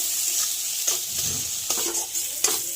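Grated coconut with turmeric and salt sizzles in a pan, a steady soft frying hiss broken by occasional stirring scrapes and light clinks.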